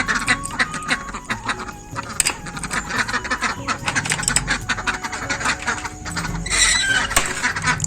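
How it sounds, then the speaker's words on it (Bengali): Ducks let out of their coop to head for a pond, producing a continuous overlapping chorus of quacks and clucking calls close by, with rustling movement throughout. "হাঁসগুলো বেরোবার জন্য ছটপট ছটপট করছে তো ওদেরকে খুলে পুকুরে পাঠিয়ে দিই"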